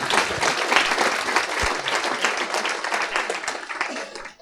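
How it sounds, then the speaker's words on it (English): An audience gives a speaker a warm round of applause, steady, dense clapping from a roomful of people that fades out at the end. "So give him a really warm round of applause, Professor John Grigg."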